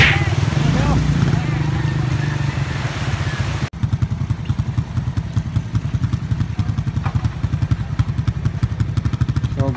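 Motorcycle pushing through flood water on a baywalk, engine chugging with steady low pulses, splashing and clatter over it, and people talking throughout.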